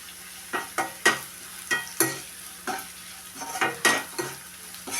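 Okra fried with chili powder in a pan gives a soft, continuous sizzle broken by regular sharp scrapes and taps of a stirring spoon, close and fairly quiet.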